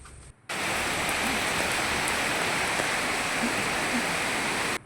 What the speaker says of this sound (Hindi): और देखिए बारिश आ गई थी इस समय